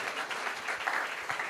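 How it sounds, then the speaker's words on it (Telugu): A church congregation claps together in worship, a steady, faint wash of many hands with no single beat standing out. "నమ్మిన వారు చప్పట్లు కొట్టి దేవుని మహిమ పరుద్దాం"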